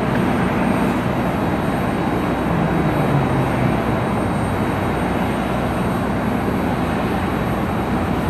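An airliner taxiing toward the runway at Cleveland Hopkins Airport, a loud steady jet engine roar and whine that holds constant throughout, heard from nearby with no voices.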